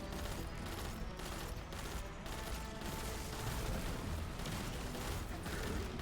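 Rapid, dense gunfire from a shoot-to-loot gun in a video game, a continuous loud barrage of shots with booms mixed in, filling the whole stretch.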